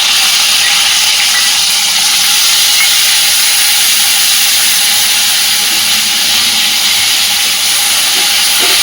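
Onion and garlic paste hits a hot pan with potatoes for an egg curry, giving a loud, continuous sizzling hiss that stays even throughout, close up and with no talking.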